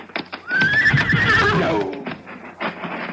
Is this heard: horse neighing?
yes